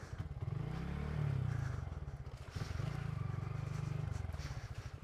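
A Honda Grom motorcycle rides off-road along a rough byway, its small engine droning steadily near the microphone with a pulsing low rumble and surges of throttle. Clattering and scraping from the rough ground run underneath, and no one speaks.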